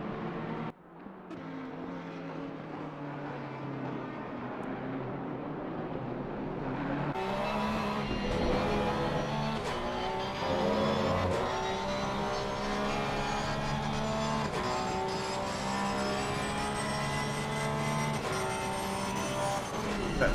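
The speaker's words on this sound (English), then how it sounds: "Looks like that is Packham just moving out the way for the lead cars" GT3 race cars in Assetto Corsa Competizione on PS5 roar continuously, engines rising in pitch through gear changes as several cars run close together, loud and sustained throughout.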